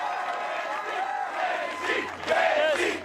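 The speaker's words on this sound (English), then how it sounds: "With such great energy from the crowd, all of them behind her." An American Ninja Warrior crowd yells and cheers energetically, swelling into louder excited shouts toward the end, with scattered individual voices rising above the mass.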